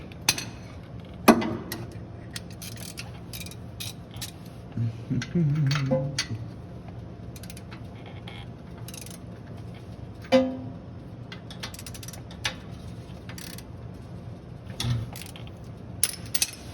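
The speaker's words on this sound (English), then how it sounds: "I'm going to go ahead and change to my bigger ratchet" A large ratchet works on a Gen IV LS engine swapped into a Chevy G20 van, sounding as scattered clicking runs and metallic clanks with quiet gaps between them, close by.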